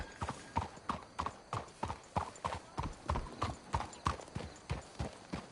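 Horses' hooves in the video game Red Dead Redemption 2, a steady clip-clop of trotting on hard ground with regular, close thuds throughout, faint and with no talking.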